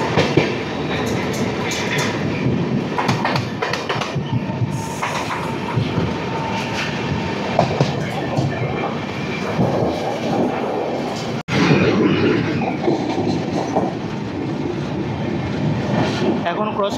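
Inside a 3AC coach of the Kolkata–Agartala Garib Rath Express, the train runs at speed near Dum Dum Junction with a loud, continuous rumble and rattling wheel clatter, a brief sharp dropout midway, then the steady roar resumes.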